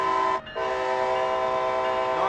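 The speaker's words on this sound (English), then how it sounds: "I wonder how the horn is inside here." Sustained diesel locomotive horn sounding inside a tunnel in the Train Sim World game, Northeast Corridor near New York, a steady loud chord that drops out briefly near the start, then resumes and holds to the end.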